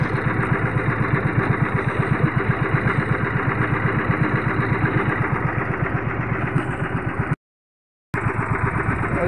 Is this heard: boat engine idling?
yes